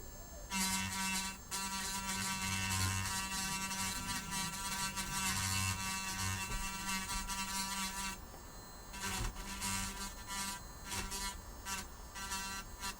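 A small hand grinder works on an electronics circuit board during a live repair, its high buzzing whine running in steady bursts with brief pauses, close and fairly quiet.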